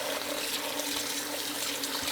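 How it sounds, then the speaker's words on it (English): Cold tap water runs steadily over rice vermicelli being rinsed, a continuous close splashing hiss with no talk. "Rinse with cold water."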